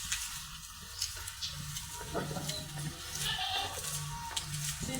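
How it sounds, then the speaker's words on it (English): Dairy goats on a Kenyan dairy farm bleating amid a steady noisy outdoor background, a few calls rising over the continuous hiss. "There I have dairy goats."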